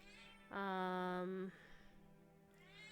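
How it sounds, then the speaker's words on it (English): Pet cat meowing for dinner, a single clear, drawn-out tonal meow lasting about a second, fairly near and alone against a quiet room. "My cat is trying to tell me that it's dinner time"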